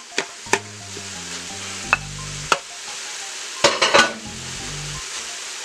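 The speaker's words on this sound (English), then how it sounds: "we're going to add our ground beef to the mixture. Going to chop it up in there." Ground beef is chopped and stirred as it browns in a power pressure cooker, with a steady sizzle of frying meat under scattered sharp clinks of a utensil against the pot and a short scraping burst near the end.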